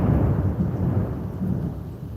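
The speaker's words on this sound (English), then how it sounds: "I think it's perfect that we're having a storm right now." Thunderstorm with a deep continuous rumble of thunder and steady rain, loud and close throughout with no voices.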